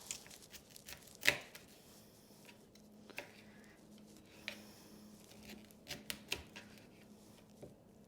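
A knife cuts through a peeled broccoli stem in a quiet kitchen, giving faint, irregular crisp chops and clicks, with one sharper strike early on and scattered lighter cuts after.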